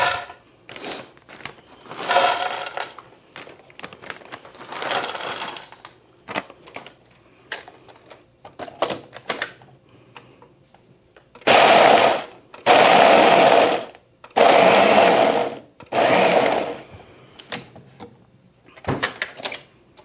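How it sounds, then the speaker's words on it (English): A Ninja blender grinds candied pecans in loud bursts of whirring, several pulses of a few seconds each separated by brief pauses, with quieter clattering and handling sounds before the blending starts. "Let me get these all in the blender."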